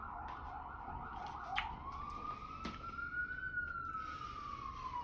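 A siren wails in the distance outside, its pitch sliding up and then slowly down over a steady background hum indoors.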